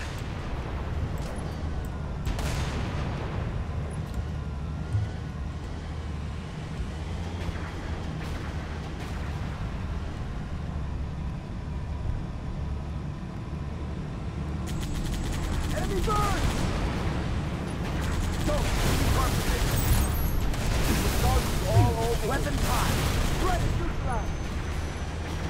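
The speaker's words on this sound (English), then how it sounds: "AA guns dead ahead, Lieutenant" Anti-aircraft guns fire in the Halo Reach game as a continuous, rumbling barrage of booms and blasts, growing louder and denser midway, with game voices talking intermittently over the din.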